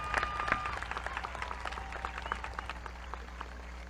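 A graduation crowd in a high school stadium claps in a diffuse, continuous patter, moderately distant and reverberant, with scattered louder claps and faint cheers in the background.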